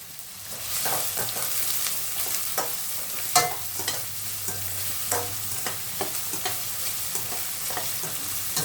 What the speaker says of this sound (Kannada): ಸ್ವಲ್ಪ ಚೆನ್ನಾಗಿ ಫ್ರೈ ಆಗಬೇಕು ಇದು ಆನಿಯನ್.